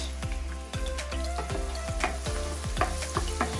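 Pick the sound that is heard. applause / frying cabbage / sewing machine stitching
frying cabbage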